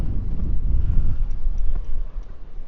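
Boats motoring out from a harbour toward offshore wind farms, heard as a steady low engine and water rumble buffeted by wind noise, continuous and moderately loud with no one talking.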